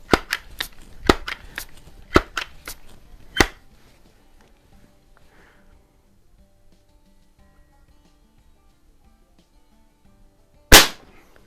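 A Sheridan Blue Streak .20 caliber multi-pump air rifle fires in a rapid run of about eight sharp cracks, then quiet, then one more loud close shot near the end.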